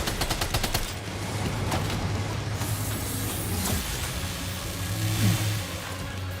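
In the video game Death Stranding 2, machine gun fire rattles in a fast burst at the start, followed by the rumbling engine of a vehicle and scattered mechanical noise through the rest of the battle.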